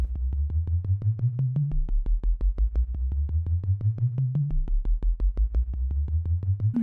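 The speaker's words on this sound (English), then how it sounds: "Rev2 resonant filter patch that you can grab." Resonant filter synth patch from a Rev2 played in Kontakt, a repeating pulsing bass sequence with rhythmic plucked notes and rising filter sweeps, loud and alone with no talk.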